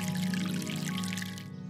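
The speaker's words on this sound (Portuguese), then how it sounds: "Também tem que botar água." Water pours onto a planted seed in a short, faint splashing stream lasting under two seconds, with no one speaking.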